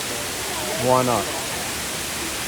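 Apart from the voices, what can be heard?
waterfall roaring up close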